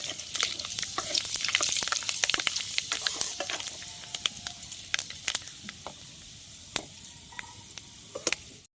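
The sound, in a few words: frying fenugreek seeds in oil for tempering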